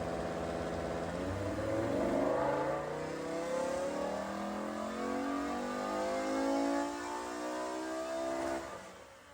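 A V10-swapped BMW E92 M3 strapped to a dyno climbs toward 8,000 RPM, its engine note sweeping upward in a loud, rising howl with rich layered harmonics, then holding near the top and easing off.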